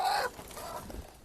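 Chickens give a brief, close cluck, a short burst at the start trailing off into quieter farmyard background.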